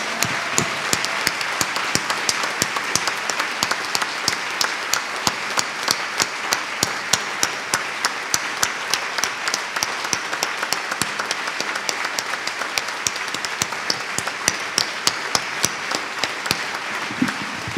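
A church congregation claps steadily in a dense, rhythmic burst of applause that carries on without a break, fairly close and even in loudness.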